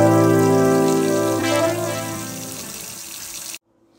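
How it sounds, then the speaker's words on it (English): Water runs from a kitchen tap into a sink during cleaning, a steady close splashing rush that thins out and then cuts off abruptly near the end, with no voices. "I'm going to be cleaning out my sink"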